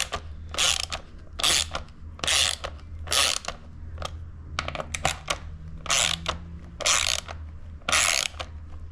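A ratchet cranks on red Loctited bolts on an Aprilia RS660, loud close clicking in repeated bursts of several strokes each, separated by short pauses.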